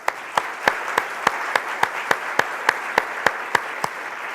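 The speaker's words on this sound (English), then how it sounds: "So can we please give them a big round of applause as well?" A meeting audience gives a short round of applause, heard as a quiet bed of scattered clapping punctuated by about thirteen evenly spaced, crisp single claps near the microphone, like one person clapping slowly and steadily.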